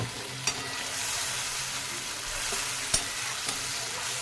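Mustard masala paste fries in a pan, giving a soft, continuous sizzle and hiss with a few faint knocks from stirring, close but fairly quiet, and nobody talks.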